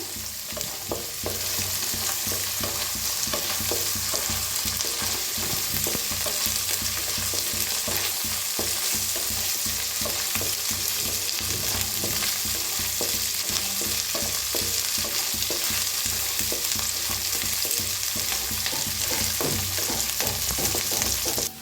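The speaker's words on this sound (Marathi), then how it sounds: "आता छान भाजून घेऊया, मिक्स करून भाजून घ्यायचं" Onions fry in a pan with ginger-garlic paste while being stirred, a constant loud sizzle broken by rapid scraping strokes of a spoon throughout, nearby and uninterrupted, with no talking.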